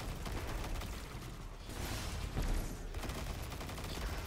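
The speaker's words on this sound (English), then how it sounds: "Pretty sure that Goliath tank has just shot one of his own" Goliath tank in Destiny 2 Witch Queen gameplay firing amid a dense, continuous barrage of gunfire and blasts, loud and sustained throughout with a swelling burst midway.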